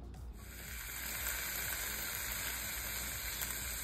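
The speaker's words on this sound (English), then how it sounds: "You could hear the sizzle" Chicken sizzles steadily in olive oil in a hot Staub cast iron pot, a dense crackling hiss that swells after the first moment and stays loud and close throughout.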